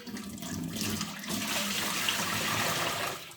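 Water carrying loosened limescale pours out of a kitchen kettle in a steady, rushing splash that runs continuously for a few seconds.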